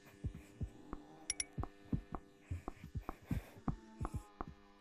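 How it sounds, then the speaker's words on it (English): A steady generator-like hum seems to come from the roof in the Gorilla Tag Wild West update, overlaid by a series of soft, regular thumps that pulse through the few seconds. "It's from like the roof. It's like a generator."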